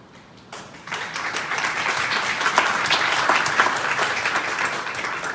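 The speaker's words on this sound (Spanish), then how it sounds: "Un aplauso por eso." Applause from an audience at a literary talk on women's short-story writing breaks out after a brief quiet moment, then continues as steady, moderately loud clapping.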